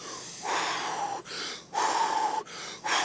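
Deep, deliberate breaths for preloading oxygen before a run, close and loud, with long airy inhales and exhales repeating in a slow, even rhythm, alone without talk.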